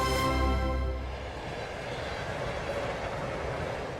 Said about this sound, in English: The trains were running.